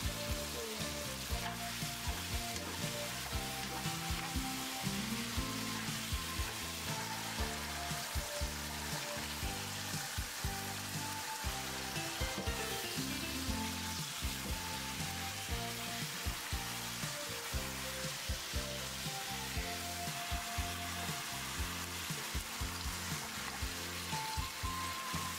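Cooked vegetables stir-fried in a wok with oil, Sichuan peppercorns, dried chili pieces and soy sauce for a spicy mala dish, giving a continuous close sizzle with steady scraping and tossing throughout and no voices.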